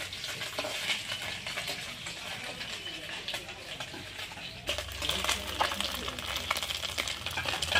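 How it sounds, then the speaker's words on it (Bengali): Small puti fish fry in a pan of hot oil, a steady close sizzle with occasional stirring scrapes that grows louder and fuller partway through. "পুঁটি মাছটা লাল লাল করে ভেজে নিতে হয়"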